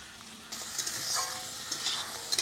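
Food sizzles in a pan with turmeric powder as it is stirred. The sound is quiet at first, then a brighter, closer frying crackle with scraping stirs comes in after about half a second.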